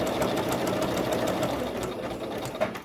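Sewing machine stitching a double-sided placemat cover, a steady rapid mechanical whirr running close and continuous before slowing and stopping at the end, with no talking.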